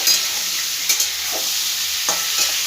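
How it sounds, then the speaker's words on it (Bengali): Mixed vegetables for a Bengali three-vegetable vegetarian dish sizzle steadily in a pan while a spatula stirs them in a few brief scrapes, close and fairly loud with no talking. "ঢাকনাটা এবার একটু খুলবো, ভালো করে একটু নাড়াচাড়া করে দেবো সবজিগুলো।"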